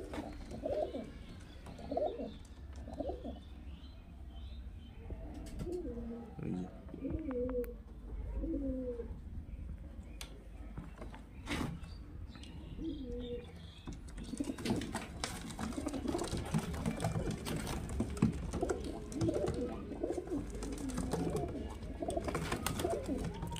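High-flying pigeons coo repeatedly in a loft, several birds overlapping in low throaty phrases, later mixed with rustling and wing sounds, fairly faint and with no talk.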